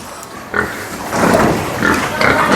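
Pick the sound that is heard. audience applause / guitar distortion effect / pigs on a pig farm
pigs on a pig farm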